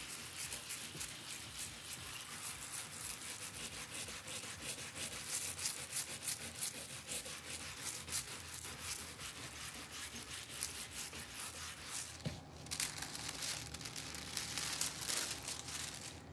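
Foil is scrubbed and rubbed onto a wreath board in a steady, soft crinkling and scraping texture that runs continuously at low level, with a brief pause near the end and no voices.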